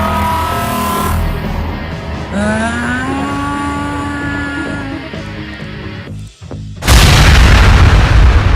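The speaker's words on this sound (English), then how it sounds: "The death ray! Fire immediately! Maximum power!" Cartoon death ray in an animated sprite fight, fired at maximum power: a sustained rising electronic whine and hum with sweeping tones, then a sudden loud broadband blast near the end, with no talking.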